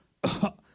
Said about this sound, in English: the sample is somebody coughing